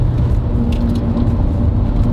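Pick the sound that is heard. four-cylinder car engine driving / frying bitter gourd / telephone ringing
four-cylinder car engine driving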